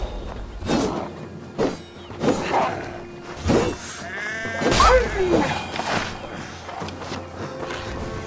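A sheep in the video game Assassin's Creed Valhalla bleats unhappily in several loud, wavering cries spread across the stretch, with soft footsteps beneath.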